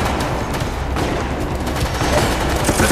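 Gunfire in the video game Resident Evil: Operation Raccoon City rattles in dense, loud rapid bursts, continuous volleys of shots filling the whole stretch with dull booms underneath.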